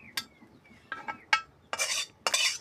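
Gourd leaves frying in a pan are stirred with a utensil, giving a few short, sharp scraping and clinking strokes spaced irregularly, the last two longer and hissier, close and fairly quiet with no talk.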